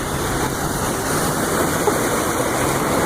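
A truck drives slowly through a deep flooded intersection after a storm, producing a steady, loud broadband rush and churn of water that continues unbroken without any talk.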